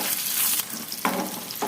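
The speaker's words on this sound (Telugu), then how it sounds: "ఒకసారి మిక్స్ చేసేసుకుంటూ కాసేపు ఫ్రై చేసుకోవాలి" Roasted peanuts frying in a pan while being mixed, a steady dense sizzle with scraping and rattling from stirring, close and fairly loud throughout.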